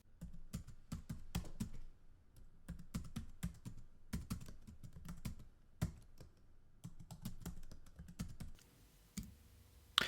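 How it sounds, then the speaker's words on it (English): Typing on a computer keyboard while entering a Python statement, heard as dense bursts of crisp key clicks in an uneven rhythm, close and alone, with short pauses between runs. "And let's type the statement."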